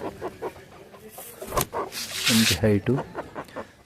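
A newly arrived, large-bodied native-breed hen on a farm gives a short burst of clucks near the end, close up, while someone talks over and around it.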